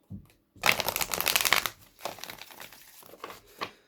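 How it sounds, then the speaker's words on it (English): A tarot deck is shuffled in a quick riffling burst, followed by softer card handling and shuffling sounds, close and alone. "Let's give this a good shuffle."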